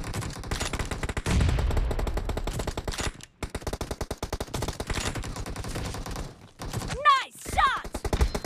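Rapid bursts of automatic gunfire in PUBG ring out close and loud, with rattling volleys, a brief pause, and then more shots, while game announcer voices speak over the action.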